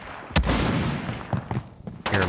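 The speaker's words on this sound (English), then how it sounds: "hear a lot of guns shooting" Scattered gunshots in the Modern Warfare Ground War video game, a few sharp cracks spaced irregularly over a noisy battlefield background, with brief speech fragments between them.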